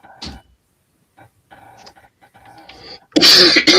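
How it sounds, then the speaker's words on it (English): Loud burst of harsh coughing from a man bursts in near the end, preceded by a short earlier cough and quiet murmured sounds. "I was coughing my head off there"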